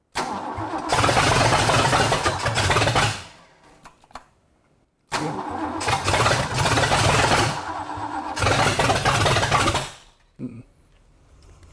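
A Ford engine cranking on its first start-up attempt without catching, two long loud bursts of rough starter grinding, each a few seconds, separated by a short pause, close by.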